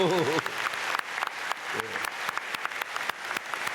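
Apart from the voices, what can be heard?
applause for Sunday school students in church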